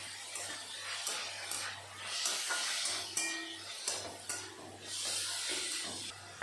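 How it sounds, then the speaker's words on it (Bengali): Minced chicken frying in a pan with garlic and ginger, a steady close sizzle and hiss with occasional scrapes of stirring, no one speaking. "এখন ভালো করে রসুন আর আদার সাথে মিশিয়ে ভেজে নেব"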